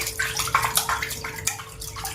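Water swirls and sloshes in a vessel as rice is rinsed by hand, a close, gentle series of splashing surges and trickles rising and falling every half second or so.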